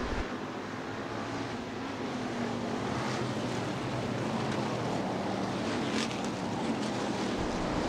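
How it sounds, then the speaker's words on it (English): USRA Hobby Stock cars racing at Rapid Speedway, a steady broad roar of engines and wind-like rushing filling the whole stretch, with no clear passes standing out. "green flag racing, USRA Hobby Stock A feature"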